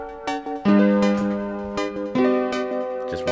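Piano notes layered with a sustained synth pad in a beat production, held chords shifting every second or so at moderate loudness, with no voices.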